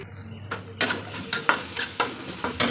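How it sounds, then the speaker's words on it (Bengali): Egg, tomato, onion and green chilli frying in a pan for Maggi noodles, with a steady sizzle and several distinct stirring scrapes spaced through the short stretch. "ম্যাগির জন্য ডিম টমেটো পেঁয়াজ কাঁচা লঙ্কা কেটে সব কিছু ফ্রাই করে নিলাম"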